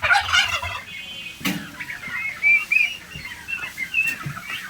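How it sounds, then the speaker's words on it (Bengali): Turkeys on a poultry farm gobble loudly nearby, with rapid rattling calls in the opening second followed by scattered gobbles and higher chirping calls from the flock. "আমাদের কাছে রয়েছে আরো টার্কি।"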